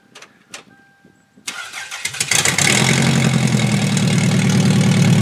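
A car engine cranks and catches after some faint clicks, then settles into a steady, loud idle close by.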